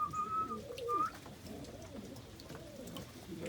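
Pigeons cooing in a loft, soft repeated rolling coos from several birds at close range, with a brief whistle-like tone early on.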